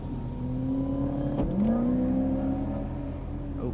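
A nearby car, apparently someone else's passing a BMW 335i, accelerates hard with a rising engine rev, a brief gear-change dip, then another climbing pull that fades out, loud and alone.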